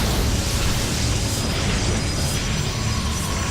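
Cannons fire and shells explode in a real-time strategy battle, a dense, continuous wash of booms and blasts with no clear gaps, loud and unbroken throughout.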